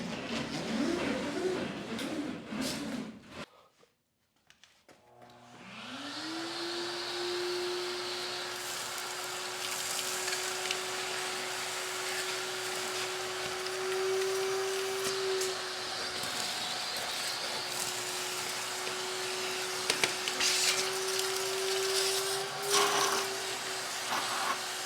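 Giraffe Tools cordless vacuum spinning up after a brief pause and sucking dirt and dust off a floor, a steady close whine with occasional rattles of debris; no talk.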